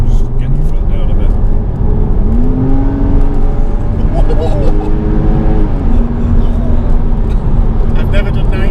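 A Porsche Cayman 987.1 3.4 S with a rebuilt engine accelerates hard on an open road, its engine note climbing and shifting through gears, loud and heard from inside the cabin under people talking.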